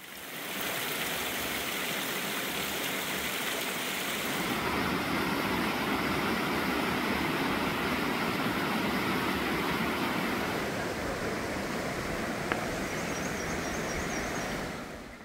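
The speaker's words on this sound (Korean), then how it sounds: "산이 깊으니 곳곳에 작은 폭포가 이렇게 큰 계곡을 만드네요." Small mountain waterfalls and a stream rush through a deep valley on Jirisan, a steady, loud broadband roar of water that fills the whole span without a break.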